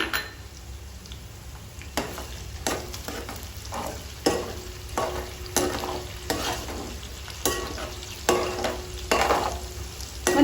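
Mutton pieces and onion fry until brown in a pan, a soft continuous sizzle broken by regular scraping stirs every second or so, fairly quiet and close, with no voices.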